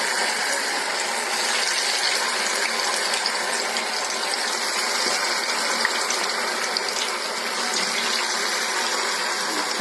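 Sago bonda fritters deep-fry in hot oil with a loud, even sizzle. The bubbling hiss goes on unbroken and close, and no one speaks.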